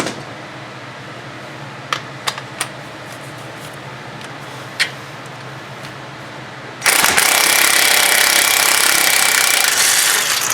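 An impact power tool bursts into a loud continuous rattling whir on a Cadillac DTS front hub, following several seconds of quiet garage ambience with a few faint clicks.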